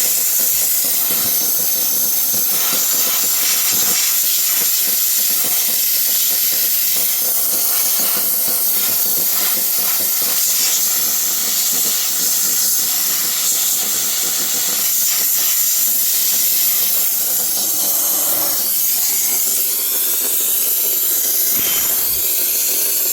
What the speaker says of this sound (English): gonna get the steam cleaner rolling